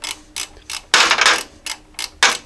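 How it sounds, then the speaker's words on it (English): Mechanical clicking while a makeshift puller tool comes off the camshaft of a Jeep Cherokee XJ 4.0L engine: a series of sharp ratcheting bursts in an uneven rhythm, close and fairly loud, with no talk. "We're just pulling off the makeshift puller right here."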